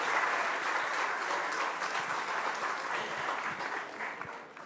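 An audience claps in sustained applause at a crowded gathering, a dense, even roar of many hands that holds steady and then tapers slightly toward the end, with no voices above it.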